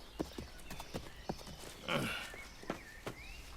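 Horse hooves clip-clop on hard ground in a French-dubbed episode of The Last of the Mohicans, a period drama set in frontier America: several sharp, evenly spaced strikes at fairly close range, joined by a brief whinny-like burst partway through.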